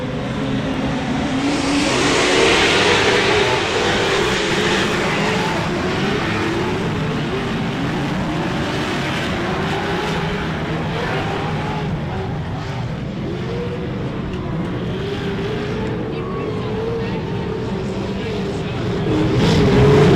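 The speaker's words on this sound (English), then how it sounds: "how about that sound of 900 horsepower" Pro2 short course off-road race trucks of around 900 horsepower roar away from a race start at Glen Helen Raceway, a loud, dense engine blare with shifting pitch that swells again near the end, under a commentator's voice.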